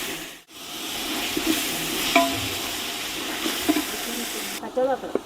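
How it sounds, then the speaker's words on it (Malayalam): Tomatoes frying in a pan for Malabar biryani, stirred with a spoon: a steady sizzle with scraping stirs and a few clinks, fairly quiet, ending in a brief quieter stretch. "ഒന്ന് ഇടയ്ക്കൊന്ന് ഇളക്കിക്കൊണ്ടിരിക്കുക. അപ്പോൾ ഇനി തക്കാളി ഇട്ട് കൊടുക്കുക."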